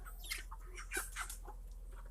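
Young chickens, including rooster chicks, cluck and chirp in short scattered calls, close and fairly soft over a low steady hum.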